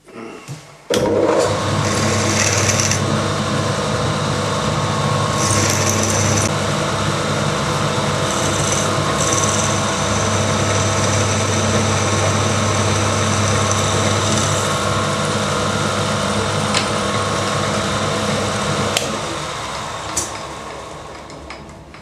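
A power drill with a 5.9mm bit runs steadily with a strong low motor hum and whine, starting abruptly and winding down near the end.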